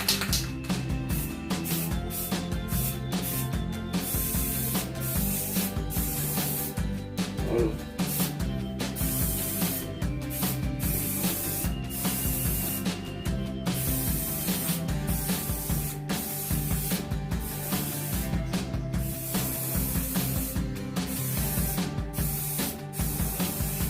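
An automatic washing machine being repainted is sprayed with paint in a loud, continuous hiss, broken by short pauses between bursts as the nozzle is released and pressed again.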